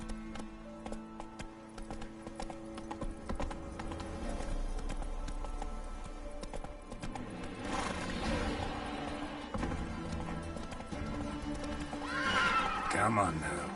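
Roach the horse in The Witcher 3 neighs loudly while hooves clip-clop at a gallop, whinnies standing out over the continuous hoofbeats and game music, with a voice speaking over them.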